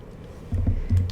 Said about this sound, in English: I've just got to type it in.